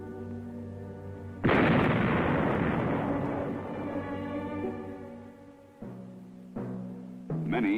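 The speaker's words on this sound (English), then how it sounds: "The mine itself should be destroyed in the same way pressure-type mines are blown." A military training demonstration of a Viet Cong mine being destroyed with explosives: a sudden loud blast erupts after a steady low drone, then rumbles and decays over several seconds, followed by a few lower thuds.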